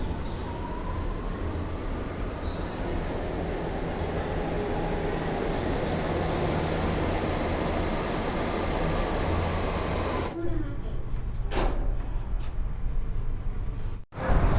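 Metro train at Yamuna Bank metro station, a steady loud rumble of rolling cars with faint wheel squeal, dropping briefly near the end before resuming.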